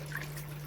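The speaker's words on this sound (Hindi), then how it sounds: "1 गिलास पानी डालेंगे" A glass of water pours into a pot of wheat porridge (daliya) cooking on the stove, a short steady splash under a low electrical hum.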